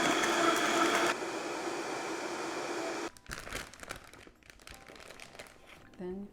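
A kitchen blender on low speed crushes ice for Korean coffee bingsu, its steady whirring grind shifting to rougher, irregular crunching and rattling as the cubes go in one by one.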